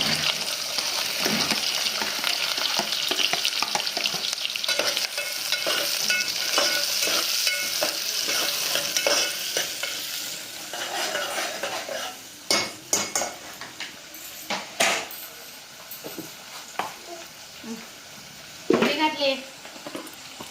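Green chillies and onions frying and stirred in a pan for a chicken gizzard fry, a steady sizzle with scraping stirs and utensil clinks throughout, quieter toward the end with a few sharp knocks.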